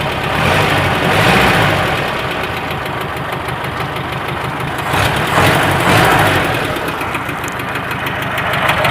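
A car fitted with half of a V8 engine idles steadily at low RPM, a loud close rumble with a slight uneven pulsing throughout and no other sounds.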